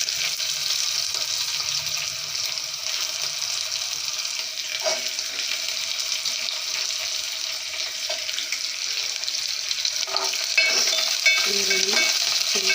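Onions sizzle steadily in a hot pan while being stirred for a brinjal palya, a soft continuous frying hiss with occasional scraping clinks of the spoon.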